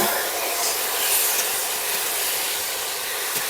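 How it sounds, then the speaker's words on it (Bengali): Eggplant sizzles in hot oil in a wok, a steady broadband hiss with slight crackle that holds evenly throughout, close and alone. "দিয়ে বেগুনটা দিয়ে হালকা হালকা ভেজে নেবো।"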